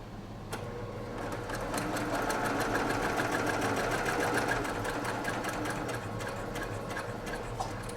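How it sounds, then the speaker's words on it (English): A sewing machine runs steadily for several seconds, stitching quilt pieces for a field-of-blue block, its even rapid needle beat close and continuous with no talk. "I'm going to sew to just a couple of stitches past the intersection"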